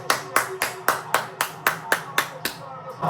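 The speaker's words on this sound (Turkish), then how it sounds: "Alkış, alkış, alkış." Rhythmic hand claps from a group of Galatasaray football fans, about eleven sharp evenly spaced claps roughly every quarter second, close and crisp, with voices murmuring underneath.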